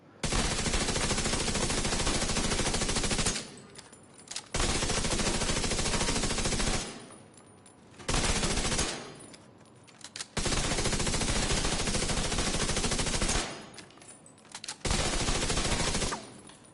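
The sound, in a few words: SMG gunfire in video game The Division 2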